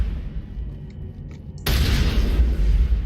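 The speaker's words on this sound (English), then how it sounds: "let's detonate explosives inside a spaceship" A loud explosion erupts in the Mass Effect game as explosives detonate inside a spaceship, a sudden broadband blast after quiet ambience that holds as a sustained roar for over a second.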